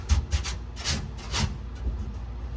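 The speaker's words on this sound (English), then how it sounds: "I can still take my cheese grater and kind of go against the grain here, knock off some of these high points" A cheese-grater rasp files down high points on hardened body filler during rust repair on a barn-find Pontiac, producing a series of rough, scratchy back-and-forth strokes up close in an uneven rhythm.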